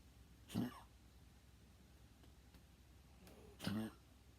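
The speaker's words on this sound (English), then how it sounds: "This has been like 2 weeks of just coughing and sneezing" A child coughs twice, short and quiet, about three seconds apart in a hushed room, each a soft rasping burst.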